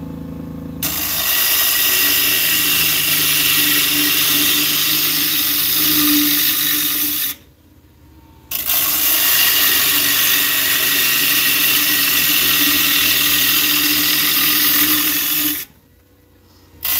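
A wooden bowl is cut on a lathe, giving a loud, steady whirring grind that runs for about seven seconds, stops briefly, then resumes for another seven seconds before cutting out again.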